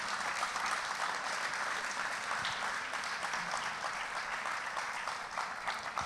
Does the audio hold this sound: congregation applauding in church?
yes